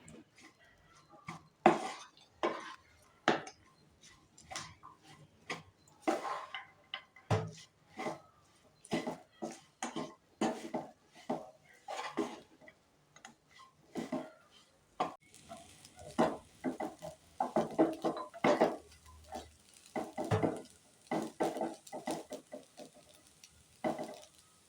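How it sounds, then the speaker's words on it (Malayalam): Rice and onion masala being stirred together in a pan, a series of irregular scraping and clinking spoon strokes against metal with quiet gaps between, close and uneven in rhythm. "ചോറും മസാലയും നല്ലോണം ഇളക്കി യോജിപ്പിക്കാം"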